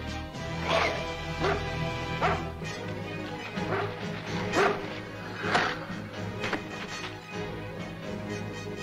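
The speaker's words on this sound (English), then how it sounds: "Let go, you dumb dog!" A dog in an animated action scene barks repeatedly and whimpers in excited bursts, loud and close, over busy background action noise and music, with someone shouting at it.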